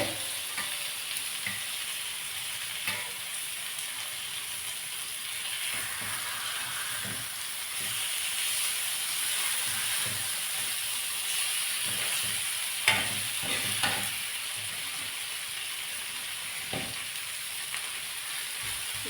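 Fish tawa fry sizzling in a non-stick pan, a steady close crackling hiss of frying oil with occasional stirring clicks and scrapes, continuous throughout with no talk.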